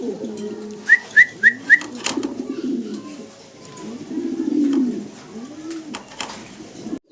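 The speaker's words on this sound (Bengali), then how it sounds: "লাক্ষা কবুতর আপনারা দেখতে পারতেছেন ফ্যান্টেল লাক্ষা ফ্যান্টেল লাক্ষা" Fantail Lakkha pigeons coo in low, rolling phrases, with a quick run of four sharp chirps early on and a few soft higher calls nearby.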